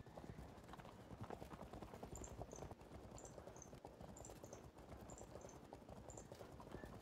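Horse archers advance in the strategy game Field of Glory II, their hooves clip-clopping in a quick, steady patter with faint whinnies, heard quietly and alone.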